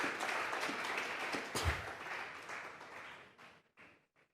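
Church congregation at a Thursday Bible doctrine service claps as an offering of praise, a fairly quiet, dense patter that fades out and breaks into a few scattered last claps.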